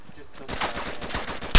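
Rapid gunfire in an online shooter game, a run of sharp repeated shots from about halfway in, loud and close, ending on a harsher burst, with a voice faintly under it.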